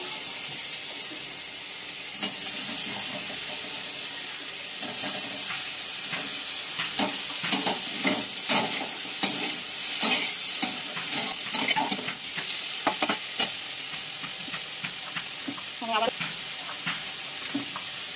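Freshly picked jute greens and stalks fry in a pan with a constant crackling sizzle. A spatula scrapes and clacks as they are stirred, and a voice speaks briefly now and then.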